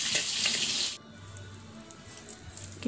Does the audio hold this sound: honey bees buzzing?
no